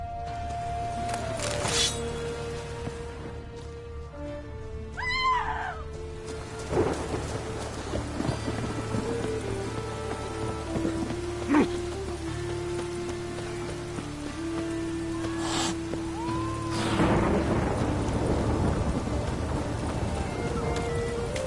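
Steady rain falls through a thunderstorm while rumbles and cracks of thunder break in at intervals, some near and sharp, others distant and rolling, across a long stretch with no talk.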